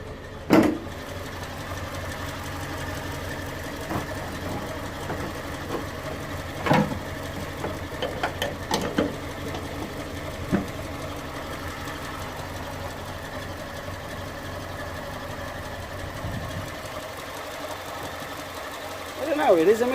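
A Ford KA 1.2 engine idles with a misfire, a low steady rumble marked by irregular knocks and ticks, with a voice speaking over it.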